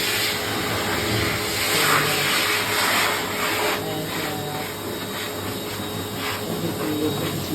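Steady, continuous blowing roar of a hand air dryer running nearby at a campsite, drying clothes, with no breaks throughout.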